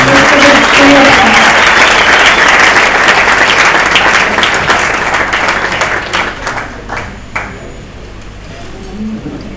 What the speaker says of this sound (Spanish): demos un gran aplauso al Señor por la vida de David